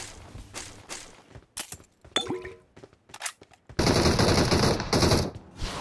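Automatic gunfire in the mobile battle royale game BGMI, short bursts and single shots scattered through the opening seconds, then a sustained loud rattling volley with footstep-like thumps in between.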